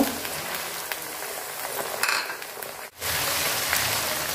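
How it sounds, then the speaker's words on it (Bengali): Ginger garlic paste and spices frying in a pan as fish is cooked, producing a close, steady crackling sizzle with brief stirring noises and a short dip near the middle, with no talking. "তো আদা রসুন বাটা একদম ভাজা ভাজা করে নিছি।"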